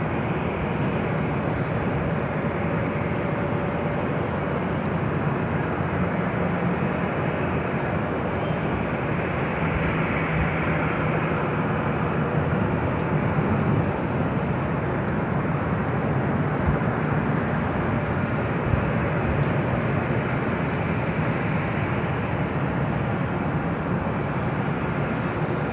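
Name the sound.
Atlas Air Boeing 747-400 taking off at LAX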